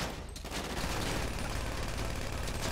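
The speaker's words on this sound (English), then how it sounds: "There, go ahead, shoot." Dense gunfire from a GTA 5 heist on the Fleeca Job, a continuous, loud barrage of rapid shots and bursts filling the whole stretch with no pauses.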